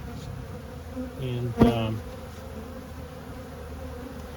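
Honeybees buzz steadily around an open hive frame, a close, continuous hum with a brief louder swell as a bee passes near; a single short spoken word cuts in.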